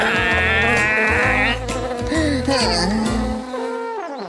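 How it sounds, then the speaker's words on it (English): Cartoon bees buzzing angrily, a loud, wavering swarm drone with rising and falling pitch sweeps, layered over rhythmic low cartoon music and bug-themed effects. "Quick, Leo, lest you be stung by a bee."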